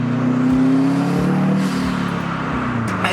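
Subaru WRX STi engine with aftermarket intake and inlet, a steady loud drone from close by with shifting pitch as it revs and pulls, whooshing intake noise riding over the engine's low rumble.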